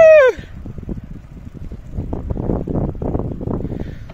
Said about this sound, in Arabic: هاي شوية ريح